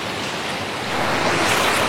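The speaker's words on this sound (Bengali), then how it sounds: "এই সামনে দেখুন, এই যে জলটা বয়ে যাচ্ছে" Water rushing steadily below Maskanda waterfall in Purulia, a dense, continuous broadband roar like surf that swells slightly louder partway through, with no voices.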